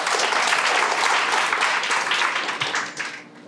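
Audience applause welcoming a judge at a legal talk on professional sports, a dense, steady round of clapping that tapers off toward the end.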